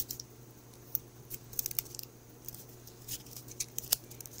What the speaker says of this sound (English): Yeah, mountain fold in half.